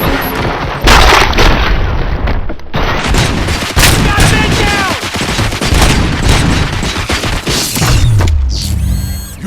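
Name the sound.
gunfire in RoboCop: Rogue City video game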